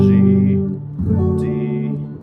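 A strummed guitar plays a short, common pop chord progression, one ringing chord giving way to the next, close and fairly loud.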